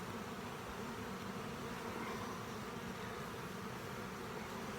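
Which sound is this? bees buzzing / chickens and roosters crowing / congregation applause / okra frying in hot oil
bees buzzing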